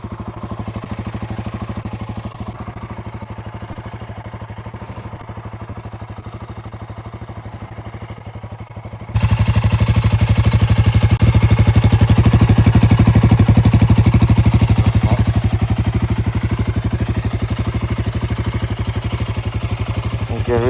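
A Royal Enfield Guerrilla 450 motorcycle engine runs with a steady, throbbing low drone, growing noticeably louder and fuller partway through as the revs rise, then holding at a constant roar.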